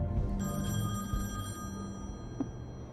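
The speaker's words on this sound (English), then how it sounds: "Phone's ringing." A telephone rings in the video game The Wolf Among Us, a faint steady electronic ringing tone repeating over low background ambience, with no talk.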